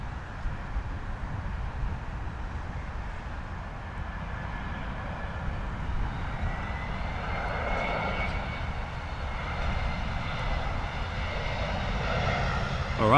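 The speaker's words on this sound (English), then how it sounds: "Brussels Airlines coming in, A320 coming in from Brussels" A Brussels Airlines Airbus A320 arrives at London Heathrow on approach from Brussels, a fairly distant, steady engine rumble with a faint whine that grows slightly louder toward the end, amid wind noise.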